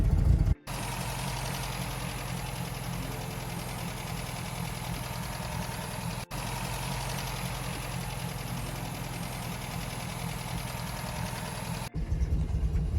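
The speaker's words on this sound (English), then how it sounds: "Yeah, you see it improving now, the sound. I've got a little bit of pressure on the throttle." A 1952 Austin A40 Sports convertible's engine running at a steady, slightly raised idle with light throttle, an even low mechanical drone close by with brief dropouts.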